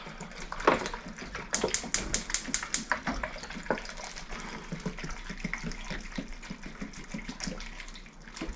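Filtered spring water splashes and gurgles into a pot of pumpkin with uneven bursts, close and fairly quiet, then settles into a softer trickle.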